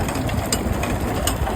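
A tractor engine running on a farm, a continuous rough mechanical drone with a steady low rumble, close and fairly loud with no talk.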